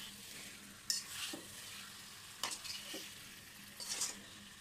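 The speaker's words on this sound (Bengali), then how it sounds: "নেড়ে চেড়ে আমি মাংস আর মশলা ভালো করে কষিয়ে নিচ্ছি" Meat being sautéed with spices in a pan at home, for a spicy chicken roast made with packet masala, with a low steady sizzle and three distinct scraping stir strokes against the pan. Close and fairly quiet, no voices.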